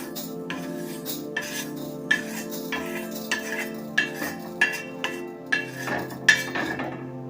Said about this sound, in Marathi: आपण हे तांदूळ काढून घेऊया बघा असं मोठं ताट घ्यायचं त्याच्यामध्ये काढून घ्यायचं